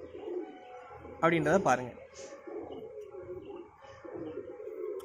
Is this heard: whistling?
no